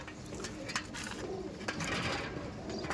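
A female Andhra pigeon at a loft coos softly in a few low, rounded calls amid a busy background of other birds and faint rustling.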